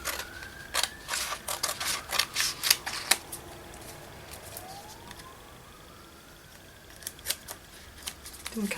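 Scissors cut around a vintage-style paper journaling card, a faux cabinet card for a junk journal. Crisp snips come in a quick, irregular run, pause, then return briefly, close and clear.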